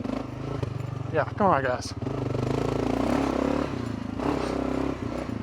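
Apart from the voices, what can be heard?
Gen 3 Kawasaki KLR 650 motorcycle riding off-road trails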